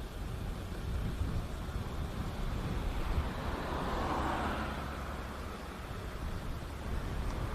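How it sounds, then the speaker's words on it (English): Strong outdoor wind buffeting a microphone during a walk across Japan between Kosai and Hamamatsu, a steady loud roaring rumble that barely lets up throughout, with no voices. "it's like currently pounding me with wind"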